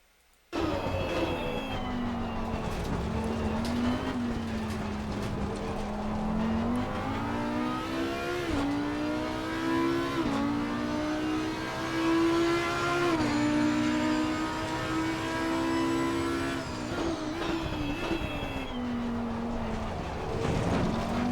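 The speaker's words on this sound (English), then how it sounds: "We'll jump inside the car" In Assetto Corsa Competizione, an Audi EVO GT3 race car laps Spa. Its engine rises repeatedly through the gears with sharp shift breaks, and the loud, steady roar runs for the whole clip with no talk.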